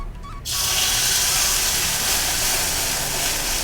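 Bottle gourd adai batter hitting a lightly oiled hot pan, bursting into a loud, steady hiss of sizzling that holds evenly after a brief quiet start.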